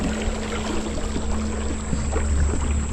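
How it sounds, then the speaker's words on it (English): A jon boat's small outboard motor hums steadily on Indian Creek, a constant close drone mixed with water rushing and splashing against the hull, with no talking. "Don't hit any big rocks with that motor."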